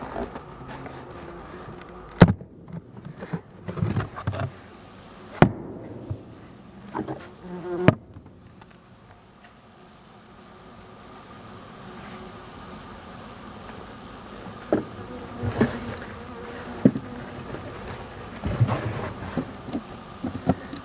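A low, steady buzz of many honeybees close by in an opened hive, punctuated by sharp wooden knocks and scrapes of frames, with no one speaking.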